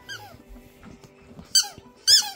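A dog chomping a new squeaky toy, producing three sharp, high squeaks at the start, middle and end, with soft chewing and rustling between them, close and fairly quiet.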